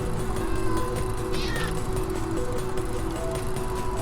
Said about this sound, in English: that's how we got this cat outside the farm